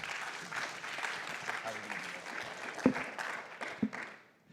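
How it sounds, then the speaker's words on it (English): Audience applause at a journalism conference pitch showcase, a moderate steady clapping spread across a room, with a couple of sharper knocks near the end before it fades out. "let's much give her a fun. round of applause."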